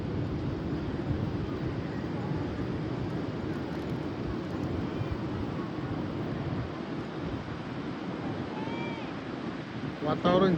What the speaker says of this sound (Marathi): हे समुद्र, गणपतीपुळेचा बीच